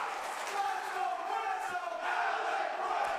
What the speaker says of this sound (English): the crowd is split here between Gresham and Price